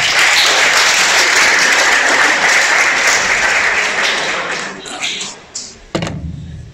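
Loud, dense applause from a church congregation fills the space steadily, then thins out into a few scattered late claps and thumps near the end.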